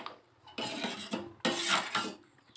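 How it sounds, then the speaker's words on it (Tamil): Wheat payasam stirred steadily in a pot, with a metal spoon scraping and clinking against the pot in bursts of varying loudness, close up with no talking. "அப்படியே கைவிடாமல் கிளறிட்டே இருக்கு"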